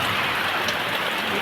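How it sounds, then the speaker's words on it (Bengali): Heavy rain pours down steadily around a house, a dense continuous hiss of drops drumming on surfaces, fairly close and unbroken, with no voices. "নেমেছে জোরে নেমেছে বৃষ্টি"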